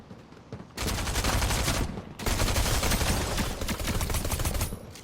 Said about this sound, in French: un pistolet mitrailleur.